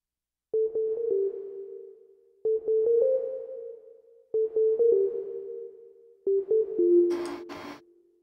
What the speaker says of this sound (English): So that reverb that you're hearing is the built-in reverb of the S3200 that you're hearing in this track.